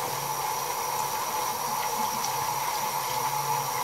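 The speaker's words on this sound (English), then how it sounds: "I'm gonna use some warm water, some hot water, not real hot water, just warm temperature." Warm water runs steadily from a tap into a sink, a constant close hiss and splash with no talking over it.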